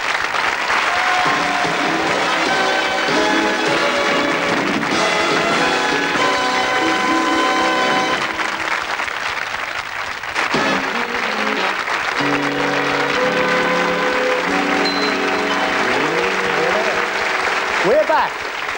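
A studio audience at a 1984 TV game show applauds continuously and loudly for most of the stretch, while music and voices sound over and after it.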